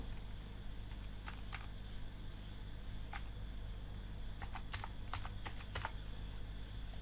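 Text is typed on a computer keyboard in short scattered bursts of light clicks, with pauses between the runs and a faint steady hum beneath.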